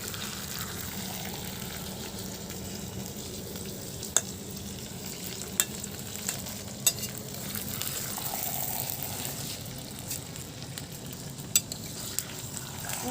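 Potatoes frying in a pan for Assamese saukat mankho, a steady close sizzle with occasional sharp clicks as they are stirred, no voices.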